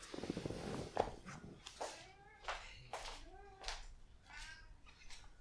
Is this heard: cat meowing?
yes